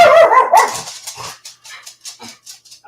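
A dog barks loudly and close by on a quiet Sunday morning, several sharp barks at first, then a run of softer, shorter yips and whimpers spaced out toward the end, with no talking.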